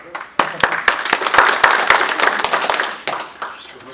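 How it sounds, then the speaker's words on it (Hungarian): A small group claps, the sharp hand claps irregular and loosely spaced, with murmured talk and cheering mixed in beneath. "nagy tapsot"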